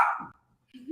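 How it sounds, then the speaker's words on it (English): A louder one of two dogs gives a single short bark at close range, followed by a brief pause and a low vocal sound that may be talk. "We're with 2 dogs today. And one's a little louder than the other, but that's okay."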